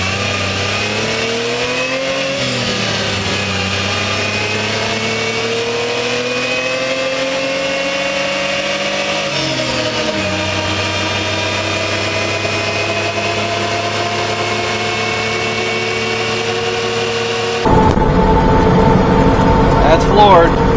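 A supercharged mini-truck engine, a '94, revs hard with the throttle floored, its pitch climbing, dipping and climbing again in a loud, steady drone up close before cutting to a rougher, noisier stretch at the end.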